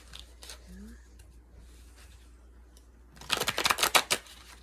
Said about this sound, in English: I'm just gonna shuffle. I do 3 times.